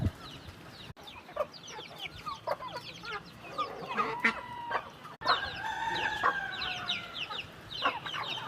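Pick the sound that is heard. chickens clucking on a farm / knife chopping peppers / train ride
chickens clucking on a farm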